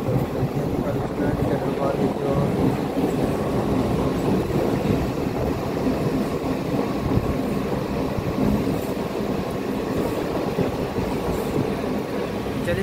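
A train at an Indian railway station rumbles steadily with clickety-clack wheel noise and faint squeals, sustained and fairly close for the whole stretch, with people talking faintly underneath.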